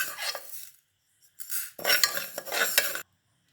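Split moong dal dry-roasting in a bare pan without oil, with intermittent scraping and rustling stirs in short bursts separated by brief silences, close up.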